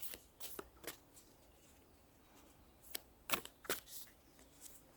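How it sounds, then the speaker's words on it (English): A tarot deck being shuffled and cards drawn, with scattered crisp flicks and rustles early on, a quieter pause, then a cluster of sharper card snaps toward the end, close and soft, without any talk. "Let's pull a card now."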